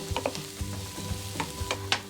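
Mushrooms and garlic stir-frying in a pan for a low-carb tomato meat sauce, with a soft sizzle under repeated scraping and stirring knocks in an irregular rhythm, close up with no talking.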